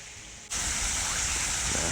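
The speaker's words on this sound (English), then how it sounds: "and another waterfall." Waterfall in the North Woods of New York's Central Park, a steady close rush of falling water that starts abruptly after a quiet moment and holds at a constant level.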